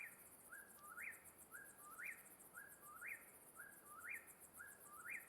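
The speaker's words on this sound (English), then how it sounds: "We have loud birds on this map." Repeated bird calls in the video game Russian Fishing 4, each a quick rising chirp, come about once a second in a steady rhythm over a soft hiss and a faint high insect-like buzz.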